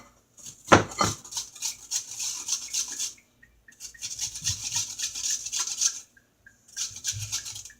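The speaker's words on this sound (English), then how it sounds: "I'm going to take my grater" A hand grater rasps over a bowl of meatloaf mix in a home kitchen, producing close, scratchy rhythmic strokes in three runs separated by short pauses, with a knock against the bowl early on.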